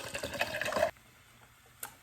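Sparkling ice water pours into a vodka drink in a close, bubbly stream that stops abruptly, leaving a quiet fizzing and a single small clink afterward.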